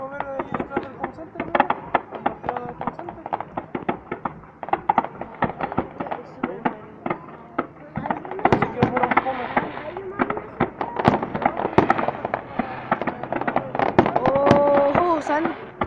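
Fireworks and firecrackers burst in rapid, irregular cracks and pops throughout, some loud and close, with whistling rockets near the end and excited voices talking over the explosions.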